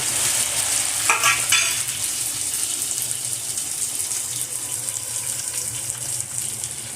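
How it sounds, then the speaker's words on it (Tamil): Garlic sautés with onion in a pan for mochai paruppu kuzhambu, a close, continuous sizzle with stirring scrapes and a brief watery burst near the start. "அதுக்கப்புறம் இது வெங்காயத்தோடையும் சேர்ந்து வதக்க போகிறது"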